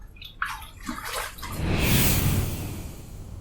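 Water runs and splashes as a face and razor are rinsed after a shave with sandalwood shaving cream, a few close sloshes building into a steady rushing flow that fills the last half.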